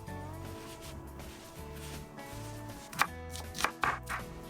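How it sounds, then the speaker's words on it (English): A knife mincing onion on a cutting board at a campfire kebab cookout gives a few distinct chops near the end, set against steady background music. "Now I'm just going to go ahead and mince up my onion."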